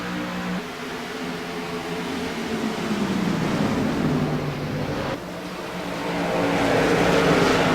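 Race cars roar back up to speed out of turn four as the green flag returns at Richmond International Raceway, a loud, sustained engine drone with rising and shifting pitch, close and continuous.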